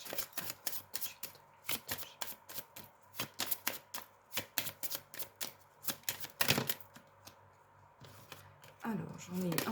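Oracle cards for a rune reading are shuffled in quick, crisp bursts, a close run of rhythmic riffling slaps that pauses briefly, then resumes, with a voice speaking near the end.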